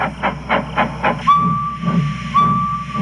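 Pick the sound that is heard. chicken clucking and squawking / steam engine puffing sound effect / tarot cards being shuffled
steam engine puffing sound effect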